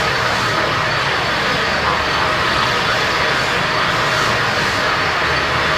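Jet airliner engines in Microsoft Flight Simulator X, on a Boeing flying from Chek Lap Kok to Beijing, make a loud, continuous broadband roar that stays steady throughout with no distinct events.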